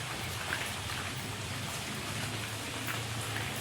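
Steady rain falling during the monsoon season, a soft continuous hiss of drops on surfaces, even and unbroken throughout, with no voices.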